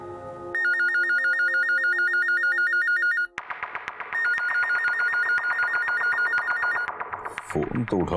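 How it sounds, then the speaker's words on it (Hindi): A telephone rings loudly and up close in a crime drama scene, a rapid electronic trilling repeated in two long bursts separated by a short gap, and a voice comes in at the end. "फोन तो उठाओ"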